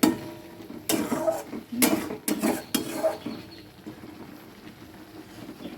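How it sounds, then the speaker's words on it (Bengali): Spice paste sautéing in a pan for potato dum, several loud bursts of spatula scraping and clattering against the pan over a faint simmering sizzle, then quieter, no voices. "এদিকে আমি মশলাটা কষাচ্ছি"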